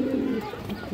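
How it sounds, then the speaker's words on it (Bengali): An Aphsan Bagha female pigeon cooing nearby, a single short low coo, fairly clear against faint background noise. "এই যে মাদিরা দেখেন দর্শক, আফসান বাঘা মাদি কবুতর"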